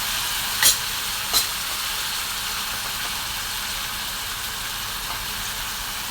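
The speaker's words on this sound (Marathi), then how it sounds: "तर आपण आता त्याच्यामध्ये गवर टाकून घेत आहोत" Cluster beans (guar) dropped into a hot pan with ground peanut, garlic and ginger, giving a steady hissing sizzle with a couple of sharp clicks early on, close and without talk.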